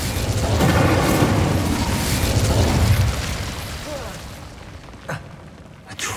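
Incendio fire spell cast in the game Hogwarts Legacy during a fight against Devil's Snare, a loud roaring burst of flame that sustains for a few seconds then fades, followed by a couple of sharp pops.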